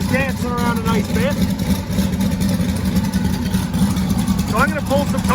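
A big-cam twin-turbo LS V8 engine with a poorly tuned, rich idle and unsteady spark idling loudly with a steady, lumpy rumble and slight shake throughout, no talking.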